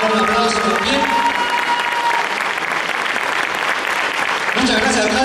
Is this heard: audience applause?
yes